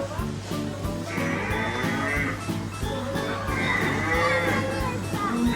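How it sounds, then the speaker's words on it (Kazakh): A calf at feeding time moos several times close by, with other livestock bleating in the background, under steady farmyard noise and children's chatter. "Мына бұзауға тамақ беріп жатыр Амина"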